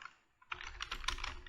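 Quick burst of keystrokes on a computer keyboard while typing a model name into code, close and fairly quiet, with rapid uneven clicks and no talking.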